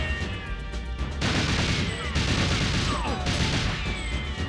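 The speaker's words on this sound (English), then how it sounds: "someone's definitely trying to shoot me" Gunfire rattles through GoldenEye multiplayer as bursts of dense, loud crackling shots in a near-continuous fusillade, with a few brief higher whines between them.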